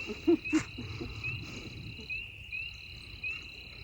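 Night ambience with repeated soft bird calls over a steady high insect drone, plus a couple of low hooting notes early on.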